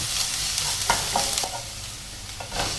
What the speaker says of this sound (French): Je vais rajouter donc mon échalote. Voilà, et puis la faire revenir 30 secondes.